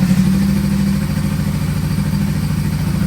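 A Honda CB500F motorcycle engine idling close by, a steady low throbbing rumble that holds even throughout, with no one speaking.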